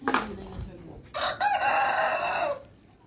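Close farmyard chickens, including Aseel hens, give a short burst of clucks followed by a rooster's crow lasting over a second, loud and near, with rustling around them.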